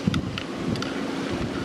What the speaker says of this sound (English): the forecast wasn't meant to be this windy